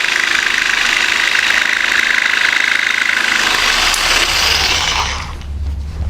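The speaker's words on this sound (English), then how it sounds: "put in from the back side, one more release cut" A jigsaw makes a release cut from the back side of crown molding held in an EasyCoper coping jig, a loud steady buzzing that runs alone for about five seconds before the blade winds down.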